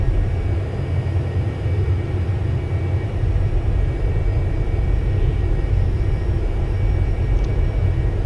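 A Citation business jet's engines spool up under added thrust in the flight simulator X-Plane 11, a steady loud low rumble with a faint whine that continues without pause.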